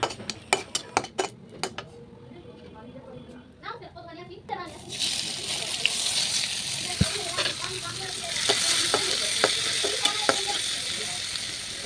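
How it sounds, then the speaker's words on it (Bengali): Dried red chillies and chopped onions frying in hot oil: a few clinks of utensils and a brief voice come first, then a steady, close, loud sizzle takes over with scattered clatter of a spoon against the pan. "আমি শুকনা মরিচ ভেজে নিলাম আর পেঁয়াজ কুচি ভেজে নিলাম"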